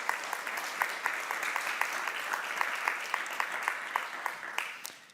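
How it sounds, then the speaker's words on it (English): Audience applause at an economics panel on CESEE competitiveness: a moderate, continuous round of clapping with distinct individual claps standing out, tapering off toward the end. "I hope you have heard the applause"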